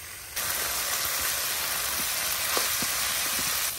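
Pieces of large koi fish dropped into a well-fried spice paste for a koi oil-chili curry set off a loud, steady sizzle that starts abruptly and hisses on without a break.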